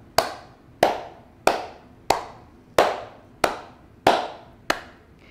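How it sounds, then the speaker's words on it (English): Hands clapping the beat of a four-cup rhythm activity for a PreK-6 music class, eight sharp, loud claps in an even pulse with nothing else around them. "Let's clap the beat of our four cups."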